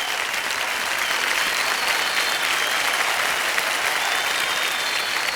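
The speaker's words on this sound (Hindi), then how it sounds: "जोरदार तालियां बज जाए विमल जी के लिए" A studio audience on the KBC quiz show applauds a winning contestant, a sustained, even wash of many hands clapping close by without a break.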